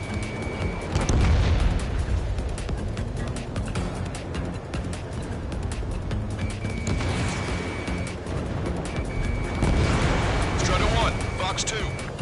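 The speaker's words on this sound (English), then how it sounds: "launching missile" Missile launch and jet combat action in Ace Combat 7: Skies Unknown, with deep rumbling booms and roaring engine noise swelling around the one- and ten-second marks, under radio chatter.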